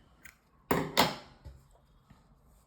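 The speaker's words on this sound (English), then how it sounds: "For that, cut the yarn" Scissors cut crochet yarn with two quick, close snips in a quiet room, followed by a faint click or two of handling.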